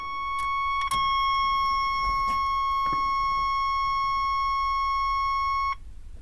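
Warning chime of a 1991 GMC Sonoma pickup with the ignition switched on: a steady, loud electronic tone that shifts pitch partway through and holds for several seconds before cutting off, with a few faint clicks.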